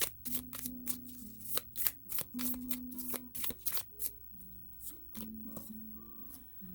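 Tarot cards being shuffled for a reading, a run of crisp riffling bursts and soft slaps that come in uneven clusters, close and fairly quiet, with a low voice murmuring faintly underneath at times.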